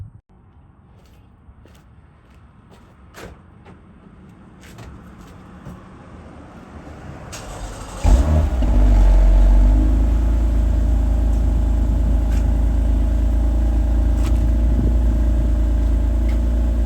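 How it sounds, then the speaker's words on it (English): A Toyota TRD car's engine catches after a quiet stretch and settles into a loud, steady rumble that holds close by, with no talking. "So we're actually gonna turn on the car"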